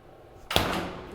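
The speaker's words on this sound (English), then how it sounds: "Oops, don't slam the door." A hotel room door at Disney's Animal Kingdom Lodge Kidani slams shut with one sharp, loud thud, then a short decaying rumble in a quiet room.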